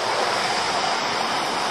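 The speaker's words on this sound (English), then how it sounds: "little waterfall" Water tumbling over a small waterfall on the River Dart at New Bridge in Devon, a steady, close, full rush of splashing with no pauses and no voices.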